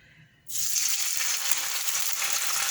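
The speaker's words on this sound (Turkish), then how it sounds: "Şimdi hamsileri buna batırıp bu salçalı sosa bu şekilde kızartacağız" Anchovies dipped in a tomato-paste sauce sizzle and crackle loudly in a frying pan, the hiss kicking in suddenly after a brief quiet moment and holding steady throughout.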